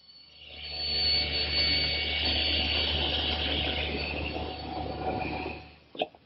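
A power saw trims a wooden panel for a toy chest, giving a steady, fairly loud whining cut that runs several seconds alone before ending with a brief knock.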